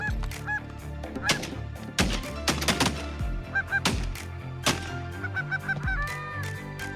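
Canada geese honk repeatedly while landing among a spread of more than 100 plastic decoys at Lac Saint-Jean, loud overlapping calls in irregular bursts, close by, with sharp knocking sounds mixed in.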